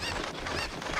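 Cuccos, the chickens in the video game Zelda: Ocarina of Time, clucking and squawking in a quick, busy burst, close and fairly soft.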